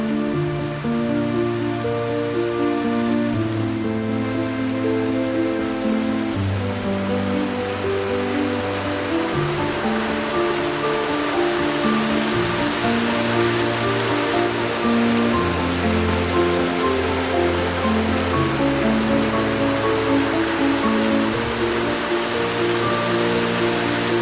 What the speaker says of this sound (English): At last we reach the whispered murmurs of Alder Creek's four falls, more of a serene whisper than a grand roar